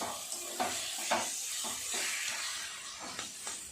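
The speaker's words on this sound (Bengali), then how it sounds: "এইভাবে নাড়তে হবে, না হলে কড়ার নিচে লেগে যাবে।" Taro leaves cooked with a hilsa fish head and stirred in a karahi, a soft sizzle under several scraping stir strokes, quiet and close, with no voices.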